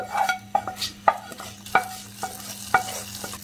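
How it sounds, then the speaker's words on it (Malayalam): A spoon stirs hot tempering into a wild mango pulissery curry in a pan with a quick run of rhythmic metallic scrapes and clinks over a light sizzle, close and fairly loud. "ഇനി ഈ താളിച്ച് നമുക്ക് കറിയിലേക്ക് ചേർത്ത് കൊടുക്കാം."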